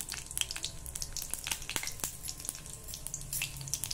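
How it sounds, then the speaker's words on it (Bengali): Whole cumin seeds hit hot mustard oil in a pan and sizzle steadily and close, with dense crackling and popping throughout. "এবার তেলটা গরম হয়ে গেলে এর মধ্যে আমি একটু গোটা জিরে ফোড়ন দিলাম"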